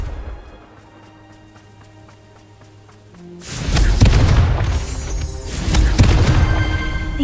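A Confringo fire spell explodes in Hogwarts Legacy after a quiet stretch of light plucked tones: a loud, booming burst hits a little past midway and rumbles on, followed by a second heavy blast near the end.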